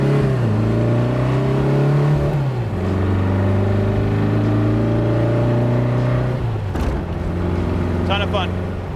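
Porsche 550 Spyder replica engine on the move at partial throttle, a loud steady engine note climbing through the gears with a clear downshift dip, close and continuous under a speaking voice.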